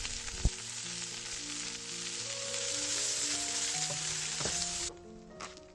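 Onion, carrot, celery and herbs fry in butter for a French pepper sauce, a steady sizzling hiss with a sharp clack of the pan near the start, the frying cutting off abruptly toward the end.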